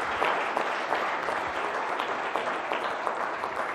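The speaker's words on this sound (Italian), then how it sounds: "facciamo un bel applauso anche a queste iniziative" Audience applause in a TV sports studio, a dense, steady clatter of many hands clapping at even loudness for the whole stretch, with no voices over it.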